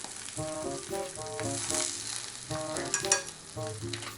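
Spam sizzles in a pan, a steady frying hiss under close clinks and scrapes of a utensil stirring and moving the food.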